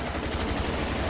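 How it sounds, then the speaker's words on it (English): Rapid automatic gunfire in a zombie survival video game, a dense continuous burst of shots close and loud with no talk. "I'm gonna be out of ammo in like two shots."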